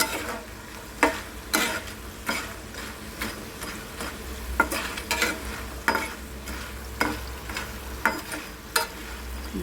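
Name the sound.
frying potato slices in oil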